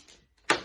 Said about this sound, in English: Door behind me.